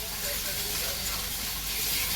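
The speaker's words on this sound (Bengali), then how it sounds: "এক এক করে এখন সবজিগুলো ভেজে নিচ্ছি" Vegetables frying in a pan in a home kitchen, a dense, even hiss of sizzling oil held steady and close throughout.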